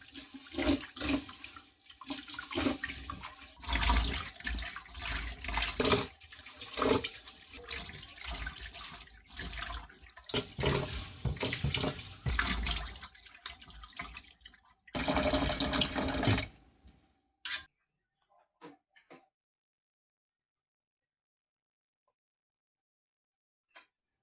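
Glutinous rice being washed in water three times, with running tap water and sloshing close by for about seventeen seconds, then a few faint drips and near silence.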